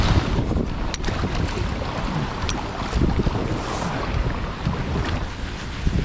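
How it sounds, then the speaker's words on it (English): Gusty wind blows across a river during October steelhead fishing from a canoe, a loud rough rumble buffeting the microphone throughout, with small knocks and splashy textures mixed in and no talking. "It's getting windy."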